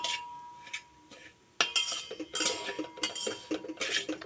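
A spoon scraping and clinking against a pot while semolina (rava) is stirred in ghee for payasam, irregular close scrapes and clinks with short quiet gaps, no voices.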